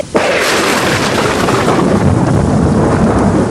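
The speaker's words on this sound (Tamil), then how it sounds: "அப்ப அந்த சூனியக்காரியோட சமாதி மேல பயங்கரமான இடி ஒண்ணு விழுந்தது." Heavy thunder crashes and rolls continuously through a pouring rainstorm, loud and close, with a sharp strike near the start and a dense rumble that persists under the steady roar of rain.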